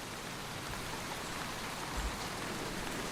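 Steady summer rain falls across a Devon farm, a dense, even hiss of drops on surfaces that holds at one level throughout, with no voices.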